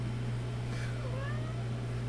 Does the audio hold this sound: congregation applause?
no